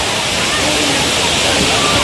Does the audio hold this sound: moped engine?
no